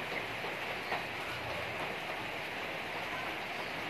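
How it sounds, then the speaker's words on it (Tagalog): Heavy rain pours steadily in a continuous even hiss, moderate and unbroken, with no voices over it. "ang lakas ng ulan dito guys."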